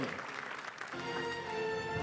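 A crowd applauds steadily at the 2024 Pantene Golden Butterfly Awards ceremony; the dense clapping continues throughout as music with sustained tones rises beneath it.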